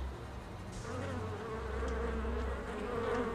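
Wasps buzz steadily in wild mountain terrain, a continuous close drone that swells slightly and holds throughout, with no voices.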